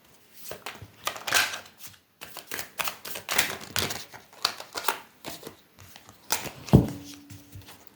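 A deck of tarot cards is shuffled by hand in repeated quick bursts of papery riffling and clicking. The bursts are separated by short pauses, and a sharper knock comes near the end.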